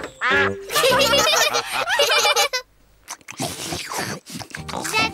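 A cartoonish duck-like quacking from the Peppa Pig cartoon in quick bursts, with voices and music around it; loud and close.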